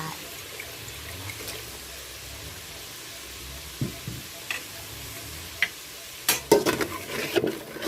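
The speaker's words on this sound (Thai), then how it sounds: "ยังไม่จบสิ้นขั้นตอนการผัดพริกนะ มันยังไม่ขึ้นเงา" Chili curry paste with coconut milk and fish sauce being stir-fried in a pan: a soft, low sizzle with sparse scrapes at first, then a cluster of sharper stirring clicks and knocks near the end.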